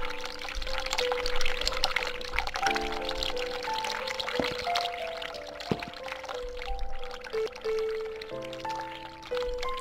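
Hot water runs steadily from a tap in the video game The Cat Lady, a continuous pouring rush over sustained tonal game music, fairly close and even in level, with no voices.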